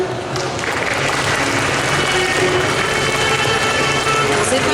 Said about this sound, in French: notre troisième et dernier jury qu'on va applaudir bien fort